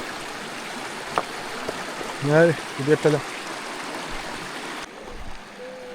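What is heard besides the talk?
mountain stream flowing over rocks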